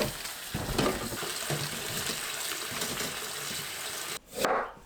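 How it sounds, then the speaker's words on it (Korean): Glutinous rice paste bubbles and plops in a pot while being stirred, a soft continuous simmer with thick bursting bubbles and scraping, ending in a brief louder splash-like rush. "기포가 퍽퍽 튀어오르기 시작하면 그때부터 30초 더 저어주시면 돼요"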